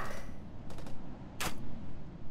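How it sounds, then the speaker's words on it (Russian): Gun turret firing in the video game Alien Marauder, heard as a few quick bursts of sharp shots over a steady background game din. "Пушка, может, отобьет все-таки как-то."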